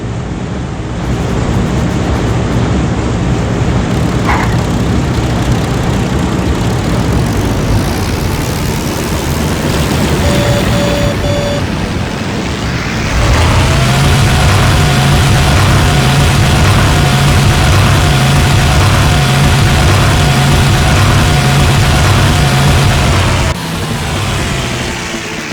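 Aircraft engines in the Heroes of the Pacific video game drone loudly and steadily, then surge to a fuller, heavier roar partway through as the throttle opens, holding there continuously before easing slightly near the end.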